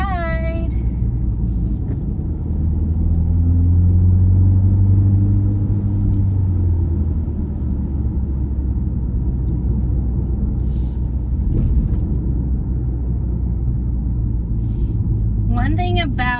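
A car drives along the twisty mountain road of the Tail of the Dragon, giving a steady low engine rumble and road drone from inside, with brief traces of voice at the start and end.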